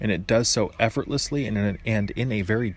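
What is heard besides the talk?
No everyday noise stands out behind the speech.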